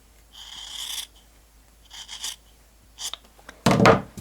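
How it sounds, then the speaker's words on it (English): Scissors snip through quilt fabric, trimming the seam a quarter inch away in a few short cutting bursts, with a louder, rougher final cut at the end; no talking. "And we'll go ahead and cut that 1/4 inch away."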